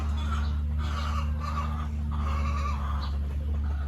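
A native hen clucks softly in a backyard pen, a few low clucks over a steady machine-like hum that fills the whole stretch.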